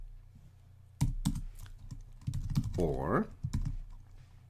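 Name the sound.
typing on a computer keyboard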